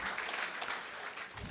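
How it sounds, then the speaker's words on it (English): An audience at a sustainable energy conference applauds, a dense steady patter of many hands clapping at moderate distance, continuing evenly throughout. "Thank you very much for applauding."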